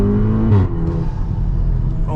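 An IE-tuned VW Golf R Mk7.5 accelerating hard with traction control off, its engine a loud, steady, close drone that rises slightly in pitch, with no speech over it.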